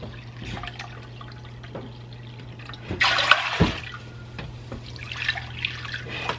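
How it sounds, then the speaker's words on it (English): White vinegar pours from a container for canning, a trickling liquid stream that swells into a louder, fuller gush midway, with a dripping tail afterward, close by and heard without any talk. "I'm gonna start off with 9 cups of vinegar"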